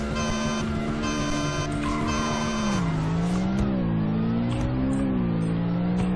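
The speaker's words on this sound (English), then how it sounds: "Now here is a race between this car and a 2006 Lamborghini Gallardo" Cars race in the Roblox game Greenville, one of them a 2006 Lamborghini Gallardo, with loud sustained engine drone rising and falling in pitch through gear changes and revving across the whole stretch.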